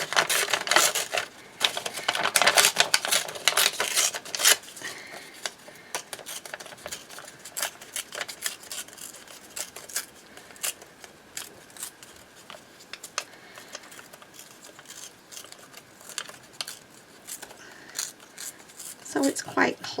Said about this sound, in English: I'm going to rip around these flowers